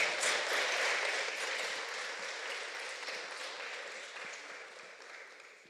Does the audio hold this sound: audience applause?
yes